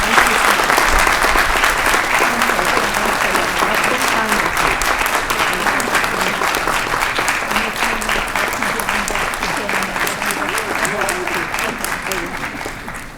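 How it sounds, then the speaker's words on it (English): Sustained applause from a large audience at a university commencement ceremony, steady and loud for the whole stretch, fading slightly at the end. "Please join me in a final round of applause for Dr. Faisa Al-Qarafi."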